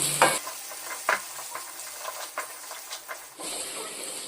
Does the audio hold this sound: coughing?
no